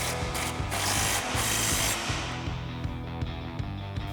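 An impact wrench with an 18mm swivel drives a bumper body mount bolt on a 2019-2024 RAM 1500, giving a loud, rapid hammering rattle that slows into spaced impacts.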